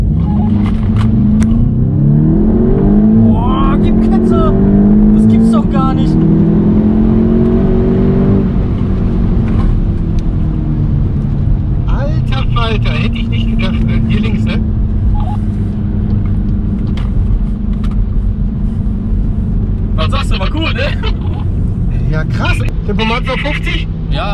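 A Golf GTI accelerating hard from a standstill, its engine rumbling loud and close and rising in pitch through gear changes, with people talking in the car throughout.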